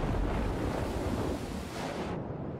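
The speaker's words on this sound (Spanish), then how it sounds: "Dejamos que pase la tormenta." Storm wind in the prehistoric survival game Dawn of Man roars as a dense, broad rush of noise, loud and steady before thinning abruptly near the end.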